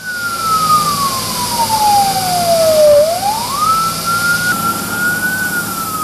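A fire engine siren wails during a fire drill, one long tone sliding slowly down and then sweeping back up, loud and close over a rumbling engine.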